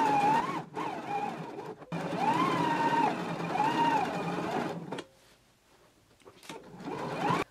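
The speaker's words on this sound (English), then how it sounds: "take it to the machine. We're going to stitch down the sides and the lower edge of our pocket" A sewing machine stitches a pocket onto a garment in two long runs with a brief stop between, then resumes after a quieter pause near the end; steady mechanical whirring with a wavering motor tone, close and fairly loud.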